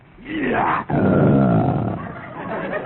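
A voice imitates a lion's roar as a radio comedy sound effect set in the African jungle, one sustained growling roar close and loud, with a brief catch in the middle.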